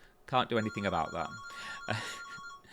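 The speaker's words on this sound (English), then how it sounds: "Ignore the phone in the background." A telephone rings in the background with steady electronic tones, sustained beneath and between someone speaking close to the microphone.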